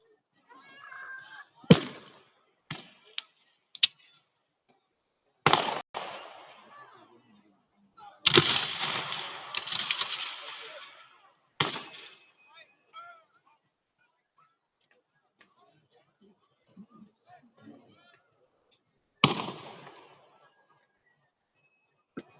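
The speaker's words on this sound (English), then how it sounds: "When you see them all shoot at once, that's called volley fire." Musket volley fire at a Civil War battle reenactment of the Battle of Olustee: several sharp, loud gunfire bursts spaced apart, one long rolling volley in the middle, then a few faint scattered pops and a final loud crack.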